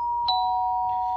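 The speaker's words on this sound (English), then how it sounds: "I like that chime. That chime is very soothing, very pleasant." A soothing chime from an MP3 doorbell, a steady sustained electronic tone with a light ding-like accent partway through, clear and fairly close.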